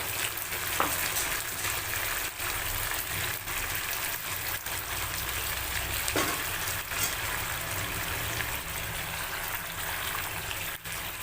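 Pomfret fish in gravy bubbles and simmers in a pan, a steady, close sizzle with faint pops and occasional soft clicks, no voices over it.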